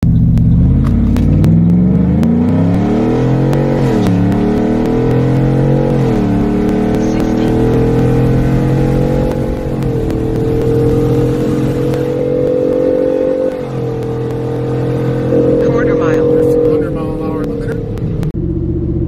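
Ford F150 truck with a Coyote V8 on a stock tune and pump gas, no spare tire or catback, accelerating hard through the gears during a timed run, a loud close engine roar rising in pitch with shift breaks.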